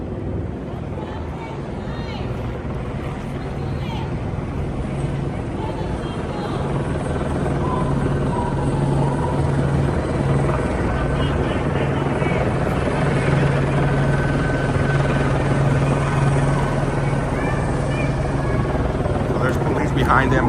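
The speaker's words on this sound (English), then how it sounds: "the LAPD helicopter being out here" An LAPD police helicopter hovers overhead during street riots, its rotor a loud, continuous chopping drone that grows stronger partway through and persists throughout, with crowd voices underneath.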